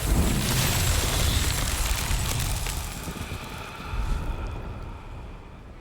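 A Confringo spell explodes in the Hogwarts Legacy video game, a loud broadband blast that rolls on and slowly decays, with a brief second swell near the end.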